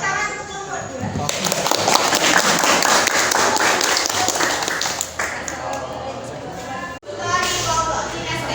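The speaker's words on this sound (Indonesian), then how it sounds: "Tepuk tangan untuk kelompok 2." A classroom group claps together for a presenting student group, dense and fairly loud, swelling then tapering off before a brief cut, with chatter mixed underneath.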